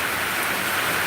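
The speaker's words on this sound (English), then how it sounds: "Raymond, don't you get water rain like this? Gully washers" Heavy rain pours down on a farm in a steady, dense hiss with no breaks, close and loud throughout, with no voices.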